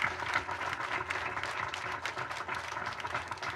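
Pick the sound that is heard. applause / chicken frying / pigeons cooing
applause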